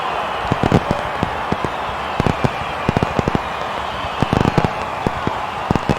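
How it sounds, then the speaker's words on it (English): Fireworks crack and pop in irregular clusters at a ballpark after a run scores, sharp loud bursts over a steady crowd roar. "Fireworks."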